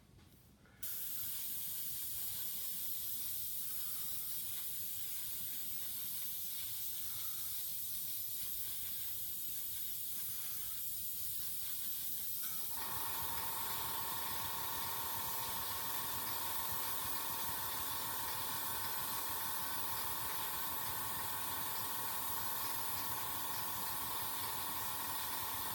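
Airbrush spraying epoxy resin for a model railroad water ripple effect, a loud continuous close hiss that starts abruptly and shifts to a steadier, higher hiss midway, with no talking.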